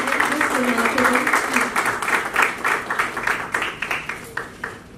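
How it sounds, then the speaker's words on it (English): Audience at a melasma awareness event for healthcare professionals breaking into applause, a run of distinct claps swelling and fading, heard under a speaker's voice. "let us give ourselves a huge round of applause for achieving this remarkable"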